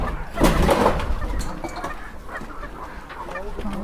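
Sonali chickens on a poultry farm clucking and calling, with a rooster-like crow early on and steady flock chatter throughout, fairly close and moderately loud.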